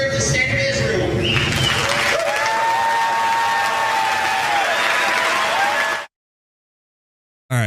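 Members of the US Congress applaud the Prime Minister of Israel in a large chamber, sustained dense clapping with some cheering that runs several seconds under the sound of the hall before cutting off abruptly.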